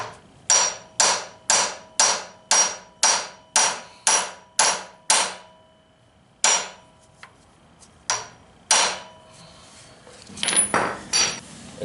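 A hammer taps a clutch adapter plate into place on a CD009 kit install with about nine sharp, evenly spaced metallic strikes, then a few slower single taps and a brief rattling clatter of metal parts.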